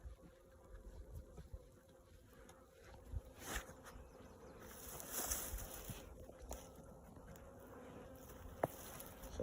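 Honeybees buzz around an opened hive frame holding capped brood, a faint steady hum with sharper passes as individual bees fly close to the ear.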